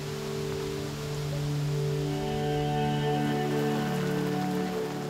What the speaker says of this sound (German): und den Regen aussitzen.